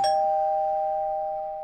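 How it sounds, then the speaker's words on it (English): A single electronic doorbell chime rings out clearly, its steady tone slowly fading over a second or so with no other sounds around it. "Why are you ringing the bell?"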